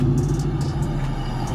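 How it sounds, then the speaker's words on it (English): A supercharged Ford Mustang accelerates nearby, its engine giving a steady, loud low rumble with a faint high whine on top through the brief moment. "Listen to that supercharger though."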